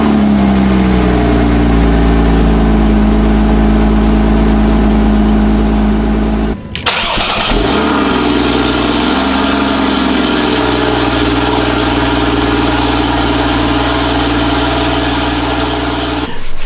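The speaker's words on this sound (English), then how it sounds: "let's start with some cold starts" Two Porsche Boxsters, a 987 and a 981, cold start one after the other: the first engine runs loud and high before cutting off, then the second fires with a sharp burst and settles into a raised idle.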